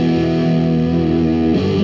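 A loud, sustained distorted electric guitar chord from a Fiona SSS Turbo Strat-style guitar, thick and buzzing with no distortion pedal, shifting to a new chord near the end.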